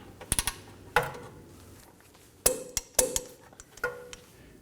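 A ratchet wrench snugs rear suspension bolts on a 2015-2023 Nissan Maxima, giving a few sharp, close metallic clicks and short ratcheting bursts separated by quiet gaps.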